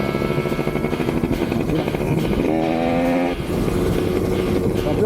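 A 50cc moped engine idles and revs continuously, up close and fairly loud, with a brief rise in pitch partway through before settling back to a steady drone.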